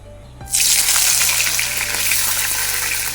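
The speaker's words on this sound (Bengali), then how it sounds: "কড়াইতে আবারও খানিকটা সর্ষের তেল দিয়ে দিচ্ছি আর এবার আমি এই ভিজিয়ে রাখা পনিরগুলোকেও একটু ভেজে নেব" Soaked paneer drops into hot mustard oil in a wok, setting off a sudden loud hiss after half a second that settles into a close, steady sizzle.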